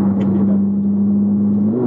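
Ferrari 458 Speciale engine holds a loud, steady high-pitched drone up close, its tone rising slightly toward the end as the revs climb, with no voices over it.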